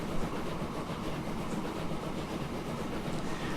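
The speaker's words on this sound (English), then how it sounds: "Now my train's on the way back." A train in the video game Transport Fever rolls along steadily, a continuous broadband rumble with faint rhythmic rail clatter running at even loudness throughout, with no voices.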